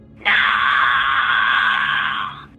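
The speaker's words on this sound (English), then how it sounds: "A blinding light erupts, and the figure screams in agony." A single loud, sustained scream of agony cuts in sharply, holds strained and harsh for about two seconds, then fades out.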